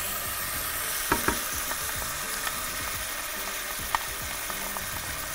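Tomato sauce sizzling in a hot pan while being stirred for a chicken and dough casserole, a steady low fry with scattered scrapes and clicks from the utensil, close and quiet, no talk.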